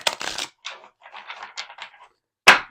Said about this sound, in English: I just had some cards flipped over in this deck from shuffling.